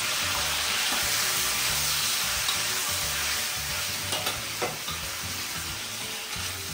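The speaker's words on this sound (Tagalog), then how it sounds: "So, maglalagay na tayo ng kamatis." Tomatoes hit a hot pan for ginisang monggo, setting off a loud, steady sizzle and frying hiss close up, with occasional stirring scrapes and no talking.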